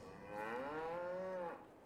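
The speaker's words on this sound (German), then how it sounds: "hier sind die Kühe am Fressen." A single long, drawn-out cow moo from the Farming Simulator 22 game, rising then falling in pitch over about a second, clear and fairly close with no talk.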